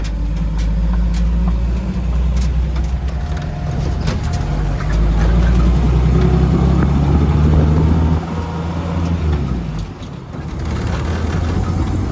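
A 1950 Chevy car under way, its engine and road noise forming a loud, steady low drone heard from inside the cabin, with no talking.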